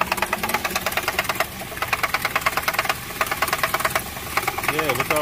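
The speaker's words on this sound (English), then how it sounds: "the car that was making noise is actually a 2008, I think it's a Toyota Yaris" A 2008 Toyota Yaris engine knocks while idling, a rapid, even, metallic ticking that repeats steadily at close range, with a brief voice near the end.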